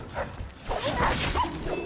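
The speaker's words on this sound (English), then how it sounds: "Oh god, there's many dogs." Several dogs bark and yip in a chaotic street scene from a first-person fantasy video game, short sharp barks and whines coming in bursts over a busy background.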